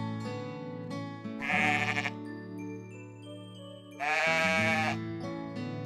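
Sheep at a farm animal sanctuary bleat loudly in two long calls about two seconds apart, over steady background music.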